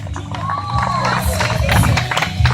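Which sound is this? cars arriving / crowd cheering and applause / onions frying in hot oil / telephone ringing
crowd cheering and applause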